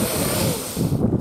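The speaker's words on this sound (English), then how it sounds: "I know it's got a bit windy." Outdoor wind buffets the microphone in a continuous loud rushing roar with gusty low rumbles.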